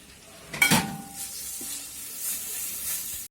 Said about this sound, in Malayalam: ഇഞ്ചി വെളുത്തുള്ളിയും കൂടി ചതച്ചതാണ് പേസ്റ്റ് ആക്കിയതല്ല ചതച്ചതാണ് അതും കൂടി ഇട്ട് നമുക്ക് വഴറ്റി കൊടുക്കാം